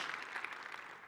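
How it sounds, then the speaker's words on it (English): Audience applause at a tech conference talk, a steady wash of many hands clapping that fills the whole moment at moderate volume, with no voices standing out. "I think it deserves some applause."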